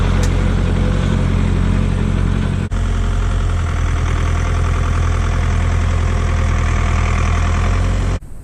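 Farm tractor engine idling steadily near a livestock water wagon, a continuous low rumble with a knocking pulse, loud and close with no talk, briefly interrupted by two short dropouts.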